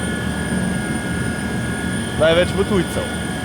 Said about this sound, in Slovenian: Tukaj je pristajalno mesto za vse helikopterje, kjer bodo danes pripeljali kar veliko gostov